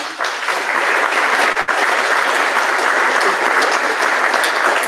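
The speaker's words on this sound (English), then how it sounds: "So can we give him a little applause?" Steady, dense applause from a conference audience honoring an Empowered Superintendent Award recipient at an education leadership forum, loud and continuous throughout with one brief dip.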